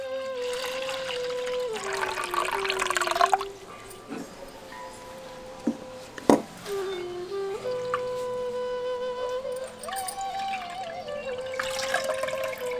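Semolina milk squeezed by hand through a cloth while making homemade maida flour: close, steady watery trickling and dribbling with a few sharp drips, continuing alone through the clip.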